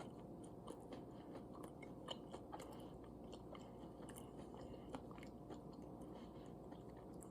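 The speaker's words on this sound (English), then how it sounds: "As you can hear the crunch." Someone chews crunchy fried vegan buffalo wings close to the mic, with soft repeated crunches and bites over a steady low background noise, fairly faint and without talking.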